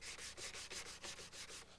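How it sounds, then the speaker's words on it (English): Hand sanding on pine molding, a steady back-and-forth rasp of abrasive paper in about eight even strokes, close and fairly loud with no voices. "I'm going to sand hard on this molding"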